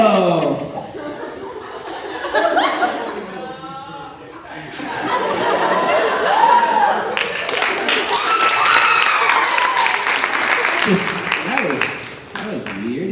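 A theater audience at a stage hypnosis show breaks into applause, swelling into dense, sustained clapping mixed with laughter and chuckles. Scattered voices are heard at the start and again as the clapping fades.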